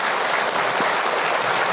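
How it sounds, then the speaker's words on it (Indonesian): Dense applause from an audience at an Islamic religious talk, a loud, even wash of many hands clapping without pause. "Boleh tepuk tangan untuk Ahilman"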